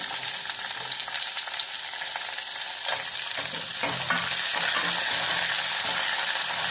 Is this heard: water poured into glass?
no